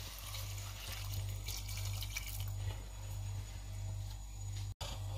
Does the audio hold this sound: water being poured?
yes